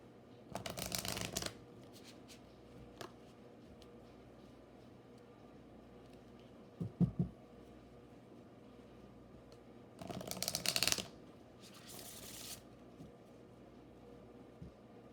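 Oracle cards are shuffled in several short riffling bursts spaced across a quiet room, close and crisp, with soft handling noises between them.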